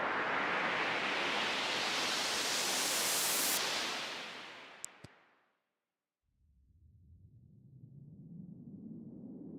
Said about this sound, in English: white noise with stereo.